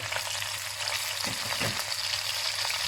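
Carrots, onions and leek sautéing in butter and meat fat for a veal blanquette, a close, continuous hiss of frying with a few soft stirring scrapes, no voices.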